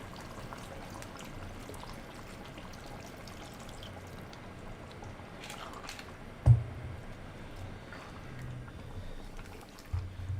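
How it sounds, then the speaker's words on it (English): Water pours into a pot of chicken biryani gravy with potatoes, a soft steady stream running under faint background noise, with a couple of brief knocks partway through. "And we want this to cover up with some water."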